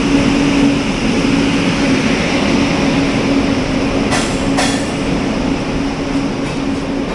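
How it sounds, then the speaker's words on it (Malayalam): A WAP-7 electric locomotive, number 39371, hauls an express train into a station, giving a steady loud rumbling roar with a faint hum and two brief sharp clicks near the end. "39371 വാപ്പ് 7 ആണ് ഇൻകമിങ് ലോക്കോ."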